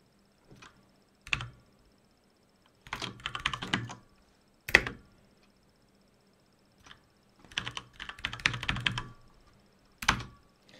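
Bursts of computer keyboard typing in short clusters, separated by pauses, with a few single keystrokes, close and fairly quiet, without speech.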